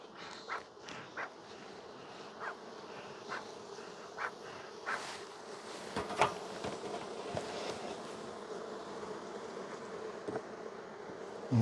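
Honey bees swarm around an open spring hive with a busy top box, a soft continuous buzzing drone broken by louder passes as individual bees fly close.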